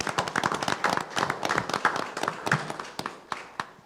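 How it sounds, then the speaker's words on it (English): A small group at a city commission meeting claps, a scattered burst of applause that thins out into a few last claps. "I just want to take a moment and give them a round of applause."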